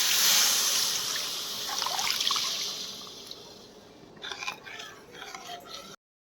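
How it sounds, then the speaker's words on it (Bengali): Milk tipped from a bowl into semolina frying in a pan, a soft liquid trickle and splash near at hand, fading out after a few seconds with faint clinks. "এবারে দুধ বাটি দিয়ে দিচ্ছে।"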